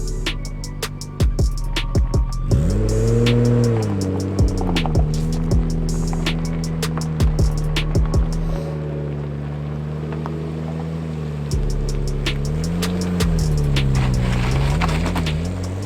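A 400 bhp Nissan Skyline R33 GTR engine drones from inside the moving car, its pitch rising and falling with throttle and gear changes, while sharp clicks and ticks punctuate the steady rumble.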